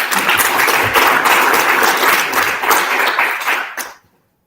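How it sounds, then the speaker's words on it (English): Audience applause at a startup demo day: dense, steady clapping from a crowd fills the room for about four seconds, then stops abruptly and leaves silence. "Round of applause for Trudit, please."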